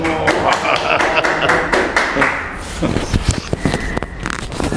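A small group claps for Handoko at the close of a Bible study session: a few seconds of scattered, moderately loud hand claps, fairly close, thinning out toward the end.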